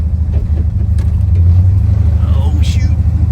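An old dually pickup truck's engine runs with a steady low rumble close by, a few quiet voices passing over it.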